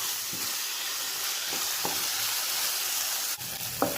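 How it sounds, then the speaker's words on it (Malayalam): Tomatoes, onions, garlic and green chilies sauté in a pan with a steady close sizzle, broken by a few soft stirring scrapes and clinks, no voices. "ഒരു 5 മിനിറ്റ് ഇതുപോലെ ഒന്ന് വഴറ്റി കൊടുക്കാം."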